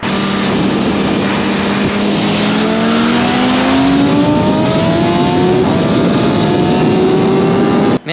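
A 2024 BMW S1000RR sport motorcycle revs loudly and steadily up close, its engine note climbing through rising tones over about eight seconds with continuous strong roar and no talk.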